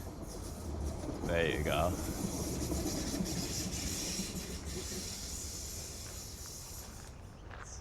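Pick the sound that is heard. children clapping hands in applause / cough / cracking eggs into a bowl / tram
tram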